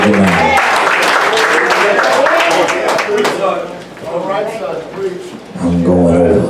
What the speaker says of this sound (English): Give God a hand clap for what he's about to tell you now.